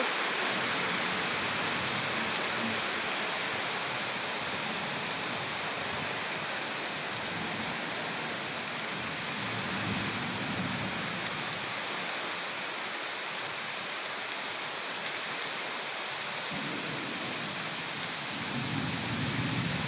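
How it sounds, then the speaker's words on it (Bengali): Heavy rain pouring down steadily, a dense broadband roar that fills the whole stretch at an even, loud level, with no voices over it. "বৃষ্টি এবার ঝমঝম করে বৃষ্টি এসে পড়েছে"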